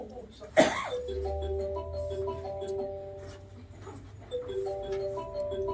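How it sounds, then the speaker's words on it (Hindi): A mobile phone rings inside a bag in a repeating electronic melody, slightly muffled, after a sharp knock, with a low hum underneath and no speech. "फोन अरे बैग के अंदर से आ रही है आवाज।"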